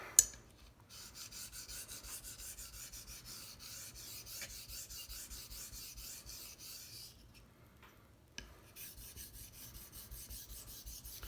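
A straight razor is worked with light pressure across a wet 1k Shapton ceramic stone to set its bevel, making a steady rhythmic scraping rasp, stroke after stroke, close up with no talk.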